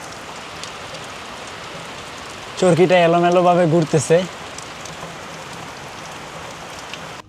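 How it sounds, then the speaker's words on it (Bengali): Steady rain falls and patters on surfaces, a dense continuous hiss heard close by, with a person briefly speaking over it partway through. "ফাইনালি বৃষ্টি চলে আসছে"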